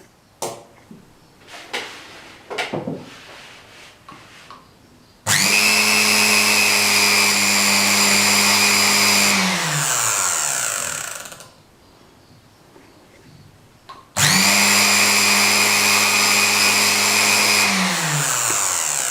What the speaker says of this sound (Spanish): Y ahora vamos a ver cómo el motor gira en sentido contrario.